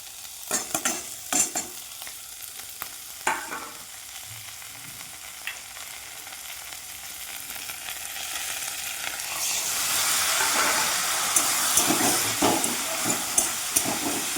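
Fish curry with ginger and chili powder frying in a pan, early stirring scrapes and clacks giving way to a rising, steady close sizzle with occasional spoon knocks.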